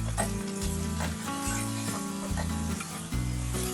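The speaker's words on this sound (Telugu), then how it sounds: "ఒక 3 పచ్చిమిర్చి, వెల్లుల్లి కొద్దిగా వేయించుకుందాము." Green chillies and garlic sizzle in hot oil in a pan while the cook stirs them, during home cooking of palak paneer curry. The frying is steady and close, with no talking.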